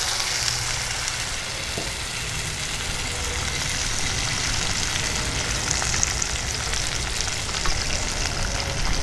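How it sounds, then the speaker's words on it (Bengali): Boiled peas fry in hot oil for a chaat, giving a loud, continuous, dense sizzle close by with no voices. "এই তেলের মধ্যে আমি মটরটা দিয়ে দিচ্ছি।"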